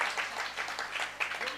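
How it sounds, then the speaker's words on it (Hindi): Scattered applause rings out at a Jain religious ceremony for donors offering metal for an idol, light and brief clapping with speech mixed in behind it. "जोरदार ताली बजाए इनके लिए"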